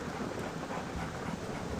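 A thunderstorm in the WolfQuest video game, with a faint, steady wash of rain and a low thunder rumble, and no voices.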